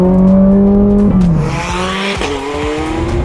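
A Ferrari 430 Scuderia engine roars loud and close, its pitch climbing then dropping sharply through quick upshifts, a loud continuous mechanical howl with no talk.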